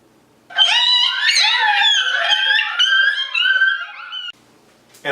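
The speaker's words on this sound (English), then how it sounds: "I use canine pup distress." An electronic predator call for coyotes plays a canine pup distress sound: a loud, high, quavering whimpering howl held for several seconds, then a brief pause before a short new burst.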